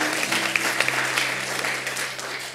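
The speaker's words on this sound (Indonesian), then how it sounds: "Tepuk tangan." Applause from a church service congregation, steady clapping throughout with a low hum underneath, moderately loud and sustained.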